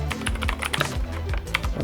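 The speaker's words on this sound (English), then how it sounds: "Let's test out the keyboard." Rapid typing on a Razer gaming keyboard, a dense run of crisp key clicks and clacks, loud and close with no voices.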